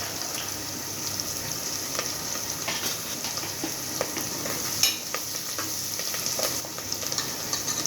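Curry leaves and chillies fry in hot oil for a tempered khichdi, giving a dense, continuous sizzle and crackle with scattered pops and light stirring scrapes throughout. There is no talk.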